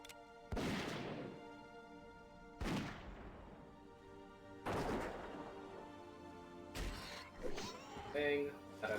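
Classic musket gunshots in World of Warcraft: four sharp, booming shots spaced about two seconds apart, each ringing out with a long decaying tail, with a voice speaking faintly in the background.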